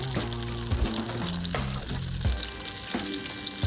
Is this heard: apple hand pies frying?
yes